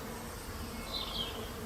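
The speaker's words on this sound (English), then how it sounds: "What am I hearing? The sound of the bees." Bees buzz among heather in a close, steady drone, with a brief rise in loudness as one passes nearer, and no one speaking.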